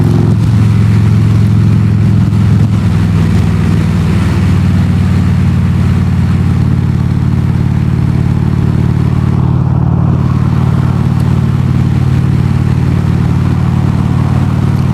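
A Harley Davidson Road King motorcycle on the road gives a loud, steady, low engine drone with wind rush throughout, close and continuous with no talking.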